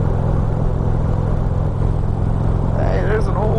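A motorcycle cruising down a freeway on a warm night, with steady loud engine rumble and rushing wind noise throughout. A rider's voice sits under the roar.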